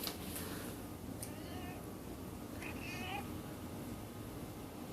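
A cat near other household animals lets out a couple of short meows over a low background hiss, with quiet room ambience between the calls.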